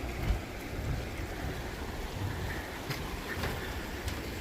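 Water rushes continuously beneath a small bridge at a mountain camp on the Adi Kailash route, a steady broadband wash with no voices.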